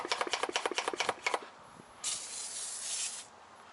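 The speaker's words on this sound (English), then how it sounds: "we're just going to gently get it in here" A handheld foam sprayer hisses steadily for just over a second as it coats the engine compartment of a 1957 Chevy Bel Air, following a quick run of rhythmic scrubbing or rubbing strokes.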